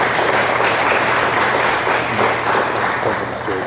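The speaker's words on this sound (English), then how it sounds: "So give them a round of applause." An audience at a school board honors and recognitions meeting gives sustained applause for honored students, a dense wash of clapping that stays loud throughout with faint voices beneath.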